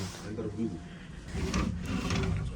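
Wooden drawers in a room are slid open and shut while checking for forgotten items before leaving on a boat journey to Labuan Bajo. Two short scraping rubs sound close, with a voice partly over them.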